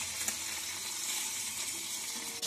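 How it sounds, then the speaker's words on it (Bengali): Fish and greens fry over a wood-fired stove, a steady, even sizzle heard close up with no voices. "দেখো কি সুন্দর ভাজা হচ্ছে"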